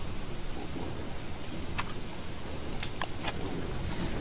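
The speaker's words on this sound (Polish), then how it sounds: "pada deszcz" Steady rain falling in the video game Don't Starve, a constant dense hiss filling the whole stretch, with a few faint sharp ticks near the middle and end.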